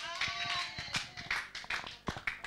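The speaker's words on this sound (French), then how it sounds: "Acclamons pour la gloire de Jésus." A church congregation claps together in praise, a dense patter of hand claps with uneven bursts that rise and fall, close and moderately loud, with a few voices faintly underneath.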